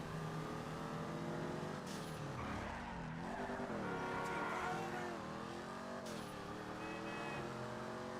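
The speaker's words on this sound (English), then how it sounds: "this is like one of the better sounding muscle cars too" A 2008 Ford Mustang GT muscle car engine in GTA Online roaring and revving, pitch climbing and dropping through several gear changes, with brief tire squeals.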